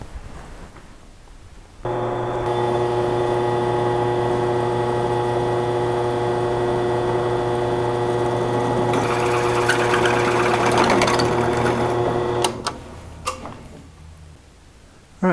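A drill press or drill runs with a steady mechanical whine for about ten seconds, boring a hole in a round tube held in a vise, the pitch roughening as it cuts, then it winds down into a few clicks.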